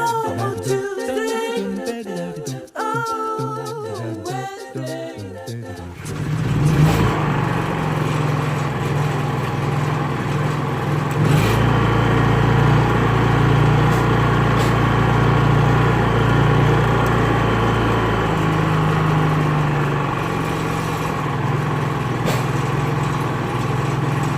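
After some music fades out, a Honda 3.0is generator's small engine starts and runs steadily with a constant droning hum that continues to the end.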